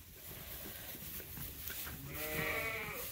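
Newborn lambs bleat on a sheep farm, with a thin, wavering cry that rises near the end over steady background noise.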